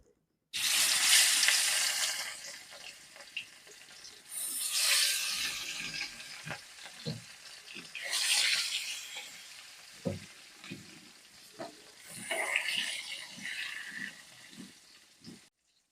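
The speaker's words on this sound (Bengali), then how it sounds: "তেল গরম হয়ে গেছে এবার আমি মাছগুলো ভেজে নেবো" Pieces of rohu fish fry in hot oil in a pan, with loud bursts of sizzle rising and fading in four waves, broken by scattered clinks and taps of a utensil.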